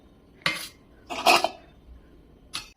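A heavy, 100-year-old bronze kumba vessel is handled, with three separate clanking, ringing metallic knocks spaced across a few seconds, loud and close.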